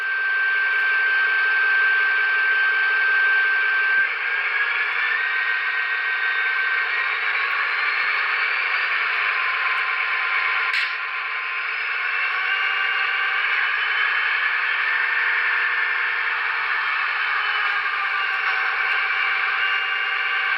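EMD GP30 locomotive in HO scale (Broadway Limited, Paragon 4 DCC sound) with its diesel prime mover drone rising in RPM, a steady loud hum with a climbing whine and no talk.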